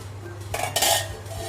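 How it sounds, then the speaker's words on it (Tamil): A metal lid is lifted off a pot of steaming pidi kolukattai, giving a few close clinks and a brief scrape of cookware, with no talk. "நான் இப்போ மூடியை திறந்து பார்க்குறேன்."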